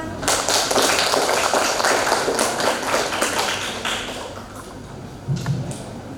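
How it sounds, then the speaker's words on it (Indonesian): An audience at a university public lecture for primary teacher education students claps in a dense burst of applause that gradually thins and fades over several seconds. "Ya, tepuk tangannya."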